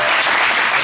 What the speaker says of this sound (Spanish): de hecho un aplauso para que